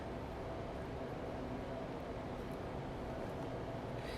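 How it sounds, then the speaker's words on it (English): Two space heaters run in a cold ceramics studio, giving a faint, steady broadband whir and hum that fills the room without change. "in the background there's 2 space heaters cranking"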